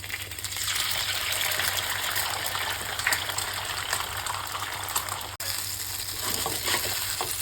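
Pad thai being stir-fried with egg and roasted peanuts, a steady close sizzle with scraping and tossing of the pan throughout, briefly cut off near the end.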